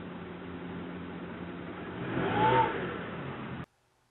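A car engine revving, a continuous muffled engine drone that swells to a peak and then cuts off abruptly into near silence.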